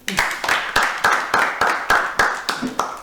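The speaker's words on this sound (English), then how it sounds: "Clap for him." An audience at a business summit claps in a rhythmic, unified beat, about ten loud, evenly spaced claps in three seconds, close and steady.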